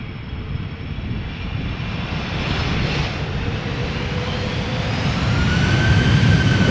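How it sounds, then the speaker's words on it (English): Pegasus Airbus A321neo arriving from Istanbul at Schiphol Airport, a continuous jet engine roar that slowly grows louder as the airliner approaches, with no voices. "We might also see the Pegasus Flypig A321neo arrive in the background."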